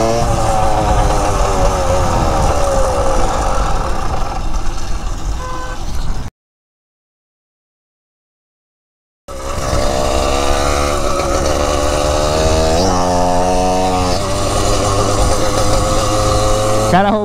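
A motorcycle engine revs hard and rises in pitch during a wheelie, loud and close, cutting out briefly to silence before surging again with repeated rising and falling revs.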